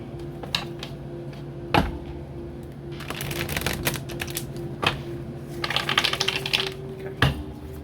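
Tarot cards being shuffled up close, bursts of riffling and flicking separated by a few sharp taps, fairly quiet and without talk.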